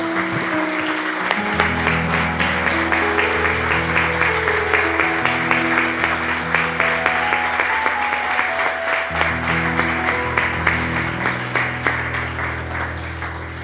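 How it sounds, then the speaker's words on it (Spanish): A church congregation applauds in a long, dense burst of clapping, loud and close, with music playing underneath and a slight fade toward the end. "Le damos un aplauso al Señor"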